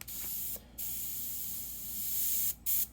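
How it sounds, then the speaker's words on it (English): An airbrush spraying paint onto frisket on a Mustang hood gives a steady, faint hiss broken by two or three short pauses as the trigger is released. "we want to just put this in very lightly, spraying on the frisket"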